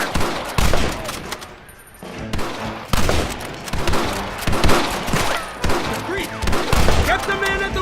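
Rapid bursts of gunfire crack through a Red Dead Redemption shootout, dense volleys and single shots overlapping almost continuously, with loud shouted voices mixed in.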